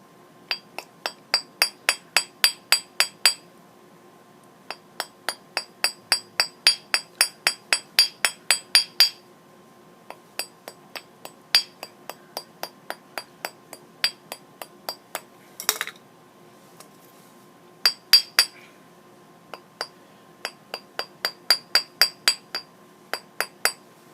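A hammer strikes metal while forging the tip of a brooch, sharp ringing clinks in quick bursts of steady blows separated by short pauses, crisp and close.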